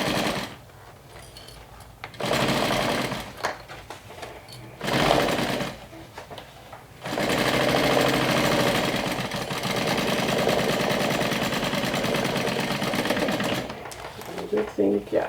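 A sewing machine stitches a saddle bag in several long, loud, steady runs, separated by brief pauses with lighter handling sounds.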